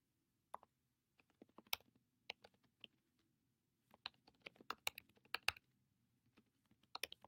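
Computer keyboard keys click in quiet, irregular bursts of typing with pauses between, close and soft over a low background hum.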